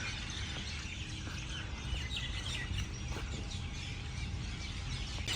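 Faint, scattered chirps of small birds in the distance over a low, steady outdoor hum, at Manarat Al Saadiyat, Abu Dhabi.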